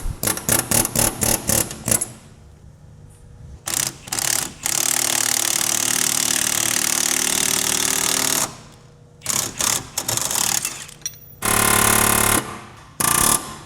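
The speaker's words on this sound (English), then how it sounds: "this one I can probably just knock out with an air hammer now" An air hammer knocks at a BMW car part in loud, close bursts: rapid hammering at first, then a long continuous run and shorter stuttering blasts, with pauses between them.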